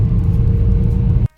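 A car driving along an empty road, heard from inside as a loud steady low rumble of engine and tires that cuts off abruptly at the end.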